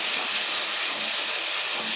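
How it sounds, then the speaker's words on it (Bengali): Water poured onto frying spices for a pointed gourd and poppy seed dish sets off a loud, continuous hissing sizzle that fills the whole short moment without a break. "মশলা হয়ে গেছে ভাজা। এবার দিয়ে দেবো এর মধ্যে জল"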